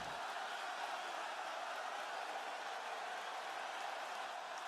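A large wrestling crowd at WWE SummerSlam in Cleveland roars in a steady, dense wall of cheering noise that holds at full level throughout, with no single voice standing out.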